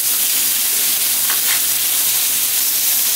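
Chili spices fry in hot oil for a Bengali-style fish curry, giving a steady, close, loud sizzle that hisses evenly for the whole stretch with no voices.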